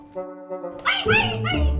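A dog whimpers and yelps from inside a bag, giving several short, high, strained cries close by after a quieter, steady hum.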